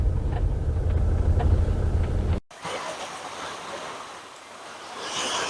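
Ocean surf washes in at a beach near a rock formation, a loud broad rushing roar that cuts off abruptly partway and resumes as a softer, hissing wash of waves.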